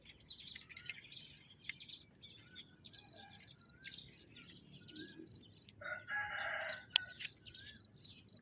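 A rooster crows from a moderate distance, with scattered bird chirps around it in a quiet outdoor setting.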